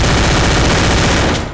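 A loud, dense burst of video game gunfire during a headshot, a rapid rattling volley filling the whole brief moment before cutting off.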